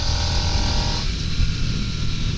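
A 2022 Harley-Davidson Nightster motorcycle on a ride, its steady engine and wind roar continuous and fairly loud for the whole stretch with no voices.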